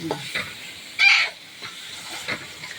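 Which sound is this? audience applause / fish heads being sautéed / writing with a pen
fish heads being sautéed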